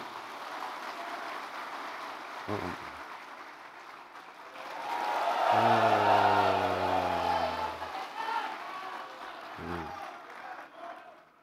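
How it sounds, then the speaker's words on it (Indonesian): Audience applause fills a large hall at the PKS party congress (Munas VI), a broad steady wash of clapping that swells in the middle and eases off, with brief amplified voice fragments and music tones over it. "Tepuk tangan untuk semua yang telah hadir."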